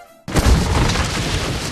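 A single heavy artillery boom, sudden and loud after a brief near-silence, followed by a long rumbling decay.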